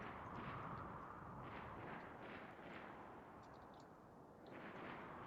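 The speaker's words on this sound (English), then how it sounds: "I hear gunshots." Continuous heavy booming gunfire and explosions from the video game RimWorld rumble steadily throughout, dense and loud with repeated bursts, no talking.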